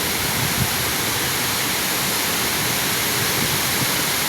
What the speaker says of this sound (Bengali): রাত তিনটার পর বৃষ্টি হচ্ছে, আর এখন প্রচুর বৃষ্টি।